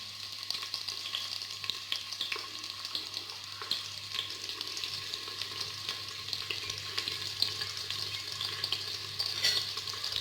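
Thinly sliced large onions sautéing in oil for vegetable pulao, a soft continuous sizzle with light stirring clicks throughout.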